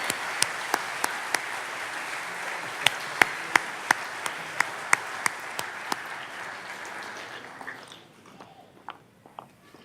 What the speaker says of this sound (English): How about a round of applause for Ron and all of our of the month winners?